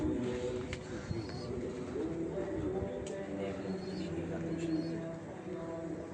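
Racing pigeons during a race flight coo softly and repeatedly, blended into a steady background with people talking nearby throughout.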